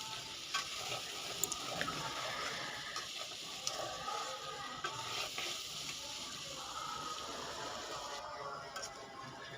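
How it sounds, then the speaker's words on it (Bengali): Potato pieces fry with green chillies in a pan, giving a steady soft sizzle with occasional stirring scrapes and clicks, moderately quiet and continuous throughout. "দিয়ে দিলাম কাঁচামরিচ, দিয়ে এভাবে ভেজে নিচ্ছি"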